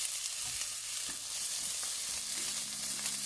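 A whole seasoned chicken is laid into a hot pan on a turned-down stove, giving a steady, fairly quiet sizzle with a few soft stirring knocks.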